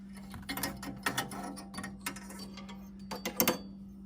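Quarter-inch screws are backed out of a furnace part with a hand tool, giving faint scattered metallic ticks and clicks in small clusters over a low steady hum, with no speech.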